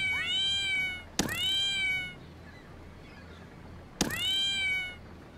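A cat meows in a video game set in Brazil, two clear, drawn-out meows about three seconds apart, loud and close with a quiet hum between them.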